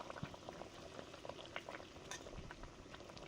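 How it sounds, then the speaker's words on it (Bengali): Silver fish curry with vegetables simmers in a pot: soft, faint bubbling and gurgling with small irregular pops, close but quiet. "ঝাল ফুটে গেছে"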